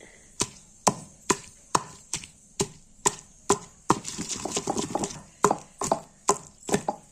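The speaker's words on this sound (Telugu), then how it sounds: "ఎండుమిరపకాయలు, తెల్లగడ్డలు, ఉప్పు, జీలకర్ర ఇంత మెత్తగా రుబ్బుకోవాలి" A stone pestle pounds and grinds tomato tamarind chutney with dried chillies, garlic, salt and cumin in a mortar, giving regular sharp thuds close by with a stretch of rougher scraping grinding midway.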